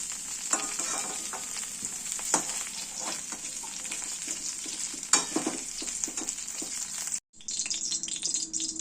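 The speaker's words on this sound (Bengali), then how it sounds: "হালকা করে কিন্তু আমাদের কফিগুলো ভাজা হয়ে গেছে" Cauliflower florets frying in oil in a pan, a loud, close sizzle broken by stirring scrapes and bursts of spatter, cutting out briefly near the end before the sizzle resumes.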